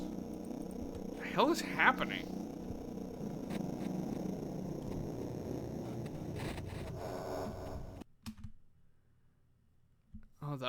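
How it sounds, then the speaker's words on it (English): A cat purrs in a modded survival video game, a soft steady rumble running under excited talk for most of the clip before the sound cuts out and a brief near-silence follows. "So yeah, that's the cat."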